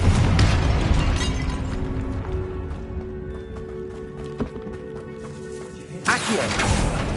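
A Confringo spell sets off an explosion in the Hogwarts Legacy video game, a sudden booming burst breaking through a rumbling, busy game soundscape.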